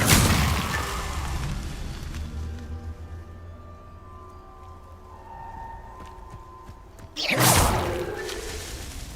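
A Confringo fire spell in Hogwarts Legacy bursts loudly at the start, then a rumbling hum with scattered crackles, and a second sharp whooshing blast hits near the end.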